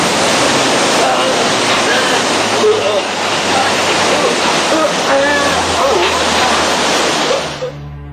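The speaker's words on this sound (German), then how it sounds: "Die Wasserwerfer sind bereits auf diese Brut gerichtet." Water cannons blast a steady, loud rushing spray in a German audio drama, a continuous roaring wash of water that holds for about seven seconds before tapering off, with faint voices and effects beneath.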